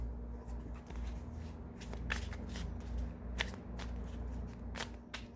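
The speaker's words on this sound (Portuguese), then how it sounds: "Eu vou tirar aqui 3 cartas." A tarot deck being shuffled by hand, with a series of crisp, close riffling and snapping card sounds at irregular intervals over a soft background hum.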